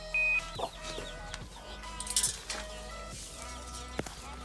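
Hens clucking inside a henhouse with litter on the floor, a few short calls and soft clucks spread over a steady low background hum, fairly close.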